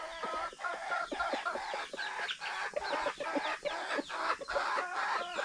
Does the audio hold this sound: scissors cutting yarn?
no